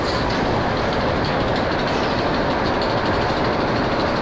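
Roller coaster trains run along the track at Parc Asterix, a steady, dense rumbling roar of wheels and rails that holds at full strength throughout, with no voices on top.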